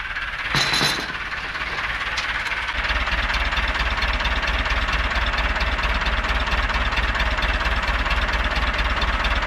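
A rare Lull all-terrain forklift, started after sitting for 25 years, idles steadily with a low, even diesel throb and some blow-by, preceded by a brief metallic clatter near the start.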